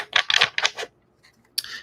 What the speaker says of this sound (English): Just going to shuffle the deck.